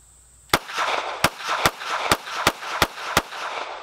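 Taurus Spectrum pistol firing a full magazine of seven rounds, close and loud: sharp individual shots at a steady, fairly quick pace with brief decay between each, no voices.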